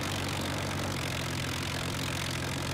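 An Avro Lancaster aircraft piston engine running during its start-up sequence gives a steady, dense, loud rumbling drone throughout with no pauses.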